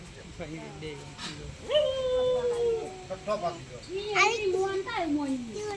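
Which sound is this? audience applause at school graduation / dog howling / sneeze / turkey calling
dog howling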